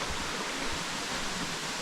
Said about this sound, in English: there's another waterfall over here